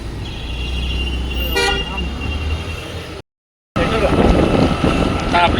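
A car drives along a road to Raigad with a steady engine and wind rumble, a short horn toot breaking through near the start, the sound cutting out briefly before the road noise resumes.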